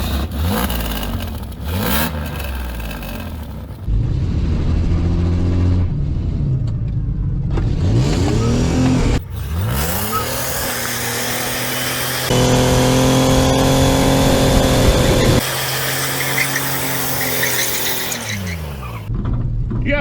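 A turbocharged Chevrolet Silverado engine, running with no oil, revs hard again and again toward redline, loud and close, rising and falling in long sweeps with turbo whine.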